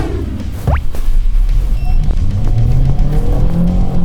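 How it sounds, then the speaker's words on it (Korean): A new Hyundai Grandeur sedan accelerates hard, its engine note climbing after a brief sharp sound and holding loud and close for the next few seconds. "100km까지 속도가 올라가요."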